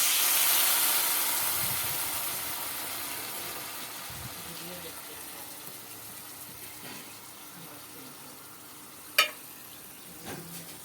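A spice mix of turmeric, ground coriander, ground cumin and salt poured into a hot pan for a rohu fish curry with potato and pointed gourd, a steady hiss of sizzling that slowly fades, with a couple of sharp utensil clinks near the end.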